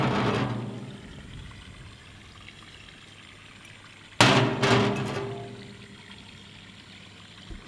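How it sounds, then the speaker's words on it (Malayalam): Chocolate syrup pours into a glass for a chocolate milkshake, a quiet close trickle followed by a brief louder splashing pour midway, then a soft fading drip with no one speaking. "ഗ്ലാസ്സിൽ ഒരല്പം ചോക്ലേറ്റ് സിറപ്പ് ആക്കുക"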